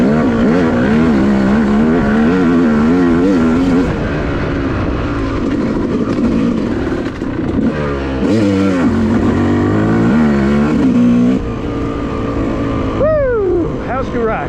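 A Yamaha YZ250 two-stroke dirt bike revs on a wooded OHV trail. The engine is loud and close, rising and falling through repeated throttle bursts and gear changes, with a sharp rising rev near the end.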